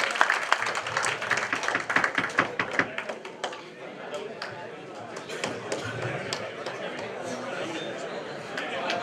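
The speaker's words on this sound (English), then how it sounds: "We need to give him a round of applause." Applause and crowd chatter at a cricket association award ceremony honoring a tournament sponsor, with a burst of clapping early that fades into ongoing murmured talk from the room.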